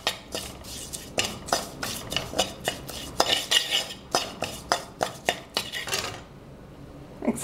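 Sambar powder is stirred in a pan with a metal spoon, a quick run of sharp clinks and scrapes against the pan that stops near the end, with no one talking.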